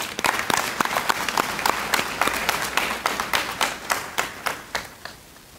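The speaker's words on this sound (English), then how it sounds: "I'd like to give our board a round of applause, please." A school gathering at Forsyth Central High School breaks into applause for the board, a room of people clapping steadily, then thinning to a few scattered claps.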